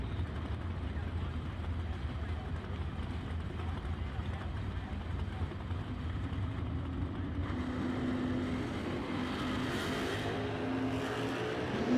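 Super Pro drag race cars at a Summit Racing event roar down the strip side by side, a broad, steady engine drone that swells louder toward the end, heard under an announcer's continuous commentary.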